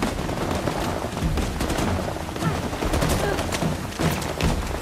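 Gunfire in the video game Uncharted: The Lost Legacy, a rapid, busy stream of shots and bursts mixed with game noise, loud and constant across the whole stretch.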